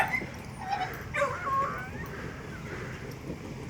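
Kennel dogs whimper and let out high yips in short bursts over a low background hum, fairly faint and at moderate distance, with no one speaking.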